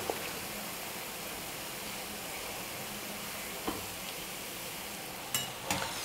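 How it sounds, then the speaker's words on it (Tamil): Bondas deep-fry in hot oil and are stirred gently with a ladle. A steady, hissing sizzle runs throughout, broken by a few light metal clinks and scrapes toward the end. "கரண்டி வச்சு இப்போ அப்படியே லைட்டாக கலந்து கொடுத்துக்கலாம்"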